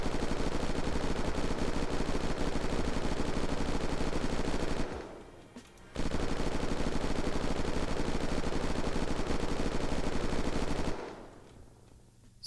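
A Hell's Fury machine gun fires in the video game Unturned, in two long sustained automatic bursts that are loud and close, each cutting off abruptly with a short pause between.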